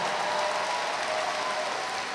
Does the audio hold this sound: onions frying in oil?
no